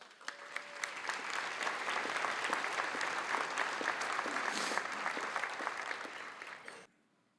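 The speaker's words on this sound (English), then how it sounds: "Please give Jenny a round of applause" A sustained round of applause from a crowd at the 2025 Missouri Sports Hall of Fame women's sports luncheon, steady and full for several seconds before cutting off abruptly.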